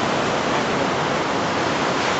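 Ocean waves break on a secluded beach, a constant, loud, broadband rush of surf that runs on without a break and with no voices.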